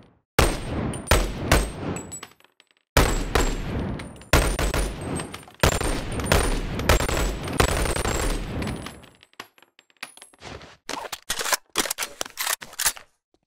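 Gunfire in the Boneworks VR shooter comes as repeated loud, close bursts of rapid shots separated by brief pauses, ending in a run of sharp mechanical clicks and clacks from reloading.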